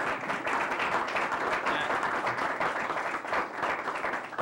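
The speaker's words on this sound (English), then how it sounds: "Can we give a round of applause to Matt?" A room full of people at a clean technology roundtable in Pittsburgh gives dense, sustained applause, many hands clapping at once, steady and even throughout.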